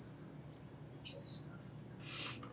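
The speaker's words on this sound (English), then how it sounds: "The birds are so loud today." Birds chirp outdoors, fairly close and clear. Several high, sustained tweets and trills are heard in quick succession over faint background ambience, with no talking.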